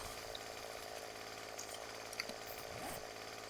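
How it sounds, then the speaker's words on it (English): Chainsaw cutting in the survival video game 7 Days to Die, a steady buzzing engine drone that runs throughout with a few small clicks and knocks over it, no talking. "That'll give us an opportunity to try out our chainsaw."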